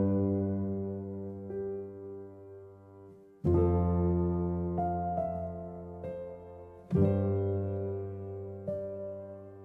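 A Heavyocity Ascend Modern Grand sampled piano patch called Ascended Wings plays three long, airy chords, each struck and left to ring with a wide reverberant wash that slowly decays, heard alone with no talking.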